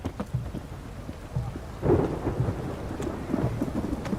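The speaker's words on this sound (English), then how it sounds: "It's raining, of course it's going to be damp." Steady rain patters under a low, rumbling wash of thunder, with a slightly heavier surge midway, continuous and fairly close, in the video game The Witcher 3: Hearts of Stone.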